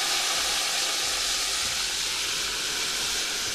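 Water hits a lamb shoulder frying in tomato paste, setting off a loud, steady sizzle and rushing steam hiss that fills the whole stretch without a break.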